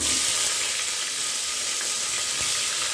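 Chopped onion fries in a hot pan with a dense, continuous sizzle, close and even throughout, and no speech.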